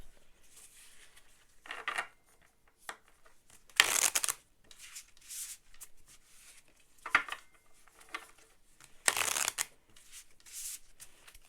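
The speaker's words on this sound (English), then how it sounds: "I'm going to shuffle one more time." Tarot cards being shuffled in several distinct bursts, each a brief crisp riffle, separated by quieter handling noises; close and fairly loud, with no talking.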